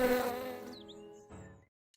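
A cartoon insect's buzzing drones steadily and fairly loud, then drops to a quieter, wavering hum before a final short burst, with no talk.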